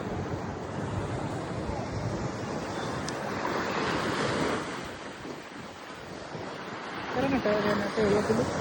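Sea waves roll and break continuously at Shankhumukham beach, a steady loud wash of surf with wind buffeting the microphone and faint voices underneath.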